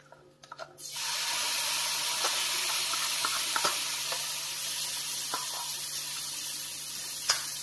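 Ground peas dropped into hot ghee for matar ka halwa burst into a loud, steady sizzle after a few clattering moments, with occasional soft stirring scrapes over the continuous frying hiss.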